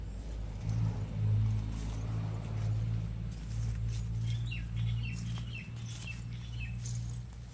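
Small birds chirp and tweet now and then in a mango orchard, thin, high and fairly distant calls over a steady low outdoor rumble.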